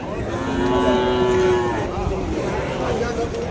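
At the Vaniyambadi cattle market beside the bus stand, a cow lets out one long, loud, drawn-out moo over a constant crowd-and-market murmur.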